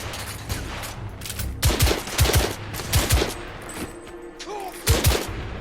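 Gunfire in the Victorian-London shooter The Order: 1886: several loud, sharp shots and short bursts crack out at irregular intervals over a constant battle din, with no voices.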